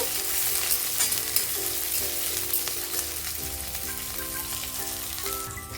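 Chopped onion fries in hot oil in a pan, a steady crackling sizzle with bursts of spattering and a faint hum underneath, close and continuous, with no voices.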